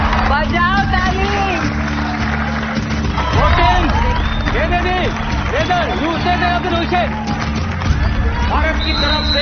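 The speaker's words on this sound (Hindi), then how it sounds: "बजाओ ताली" A crowd claps and cheers at a kabaddi match between India and Iran, a loud, continuous roar of applause and hubbub with voices and shouts rising over it.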